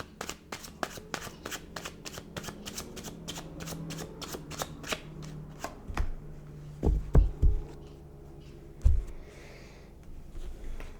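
Tarot cards shuffled by hand in a rapid run of crisp riffling flicks for several seconds, giving way to a few louder, separate taps and thumps as the deck is squared and laid out; no talking.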